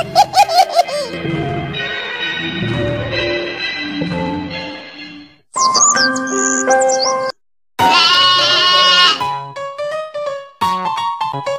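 Cartoon goat kids bleating, a series of high wavering bleats in short bursts, loud and close with pauses between, mixed with playful music and giggling.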